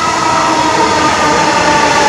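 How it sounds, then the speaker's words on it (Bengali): A Dhaka metro rail train runs past on its way to Motijheel, producing a loud, continuous rushing roar of wheels and carriages that stays steady throughout, with no voices. "আরেকটি মেট্রো রেল, সেটি মতিঝিলের উদ্দেশ্যে চলে যাবে।"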